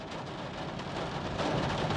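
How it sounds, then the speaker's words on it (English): Steady rain falls outdoors in Trondheim, Norway, giving a soft, continuous hiss with faint patter that swells slightly toward the end. No voices are heard. "As you can hear, it's raining because we're in Trondheim."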